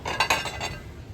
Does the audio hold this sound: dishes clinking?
yes